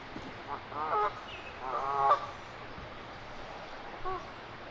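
Geese honk in short bursts during mating season near Daniels, Maryland, a couple of clustered calls followed by a lone honk, heard over faint outdoor background noise.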